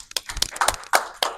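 A small neighborhood association meeting audience gives scattered, close-up applause, a handful of sharp individual claps that come in brief uneven bursts.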